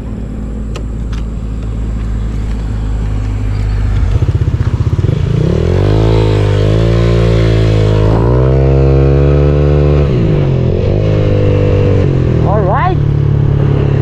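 A Honda Click 160 scooter on a super stock setup with an RS8 torque drive CVT tune revs up close and loud, its engine pitch climbing and falling in repeated surges over a steady idle.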